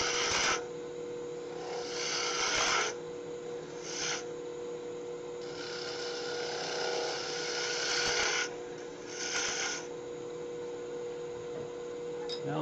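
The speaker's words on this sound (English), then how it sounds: "do a little bulk removal here with a spindle roughing gouge" On a wood lathe, a spindle roughing gouge cuts a small wood blank for a miniature bird ornament, giving rasping, swelling bursts of cutting noise over a steady motor hum, close and continuous.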